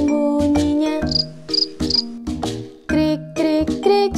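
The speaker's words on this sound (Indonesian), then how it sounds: "Krik, krik, krik, suara jangkrik." Crickets chirping in a children's animal learning song, loud, close bursts of bright chirps in a rhythmic pattern with short pauses, set against tonal musical accompaniment.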